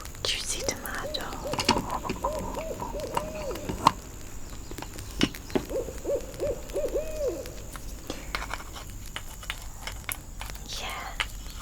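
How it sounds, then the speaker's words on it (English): Several owls hoot from the trees in a series of soft, wavering calls outdoors at a campsite, with faint whispering and scattered rustles in the background. "So we can hear owls and things now because they're living in the trees"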